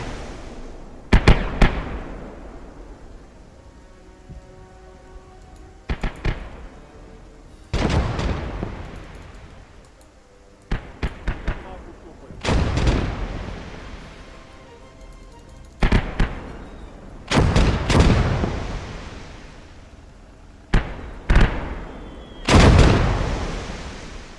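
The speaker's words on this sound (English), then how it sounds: "We're just going to call in the mortars here" Mortar strikes in the war game Blood Red Snow, a series of heavy booming explosions landing every few seconds, some in quick clusters, loud and close with rumbling tails between.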